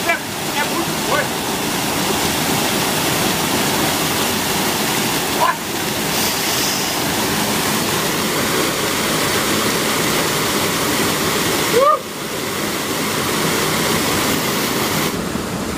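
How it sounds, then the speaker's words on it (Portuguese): Water from a dam outflow in the Putim area of São José dos Campos roars continuously and loudly, a steady broadband rush close by with occasional voices. "logicamente que não é uma cachoeira, é a vazão de água da represa"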